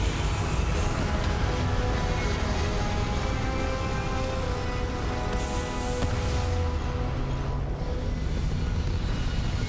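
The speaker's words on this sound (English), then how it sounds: "All thrusters firing." Spaceship thrusters firing in Starfield, a steady, loud, broadband roaring rush that holds at an even level throughout with no breaks.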